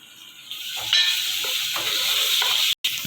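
Tomatoes frying in a pan for mutton curry, a steady loud sizzle and hiss that swells after the first second and keeps going, with one abrupt brief dropout near the end.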